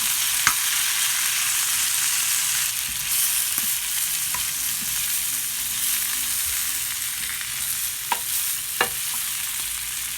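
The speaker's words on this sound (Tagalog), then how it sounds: "haluin lang ng haluin. Isahin lang sa butter at bawang ang ating potatoes." Baby potatoes fry in butter and garlic in a pan, giving off a steady, close hiss and sizzle for the whole stretch, with a few sharp utensil clicks as they are stirred.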